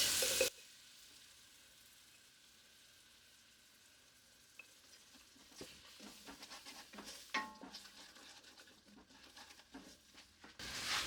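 Leftover heavy cream goes into a hot pan and sizzles, a faint frying hiss that picks up after a few quiet seconds, with scattered stirring clinks and spatters close by.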